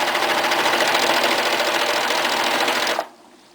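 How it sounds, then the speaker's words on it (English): Serger sewing a 3-thread stitch while its blade trims excess fabric, a loud steady rapid whir that runs without pause and then stops abruptly near the end. "the one I'm going to be doing now is a 3-thread serger stitch"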